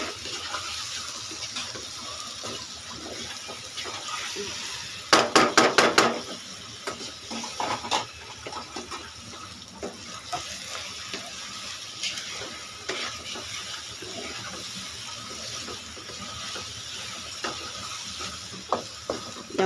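Okra fries in a pan with tamarind juice, giving a soft, steady sizzle with a quick cluster of utensil scrapes and clinks near the start, followed by occasional lighter stirring taps throughout.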